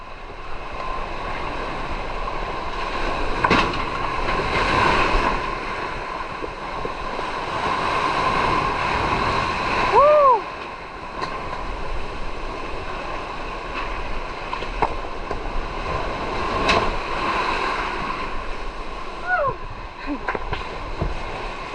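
Storm-surge water from a typhoon overflows near the coast in Mindoro, heard as a steady roar of surf and wind noise that continues throughout, with brief voices and a few faint tonal chirps over it.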